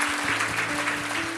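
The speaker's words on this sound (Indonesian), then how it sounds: "Kita kasih tepuk tangan untuk mereka, welcome home." A church congregation claps together during a worship service, a dense, steady wash of applause over a sustained keyboard or organ tone, brief and close.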